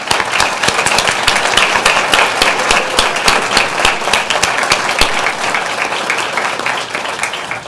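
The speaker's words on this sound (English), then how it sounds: "So let's give them another round of applause." A school board meeting audience gives students a round of applause, with dense, steady clapping from a room full of people. It stays loud and even throughout and slowly thins near the end.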